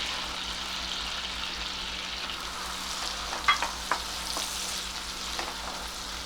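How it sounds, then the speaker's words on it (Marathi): Cumin seeds and onion fry in a pan for pav bhaji, a steady crackling sizzle with a low hum beneath, broken by a few sharp spatula clinks and scrapes in the second half. "कांदा थोडा परतून घेऊया आपण"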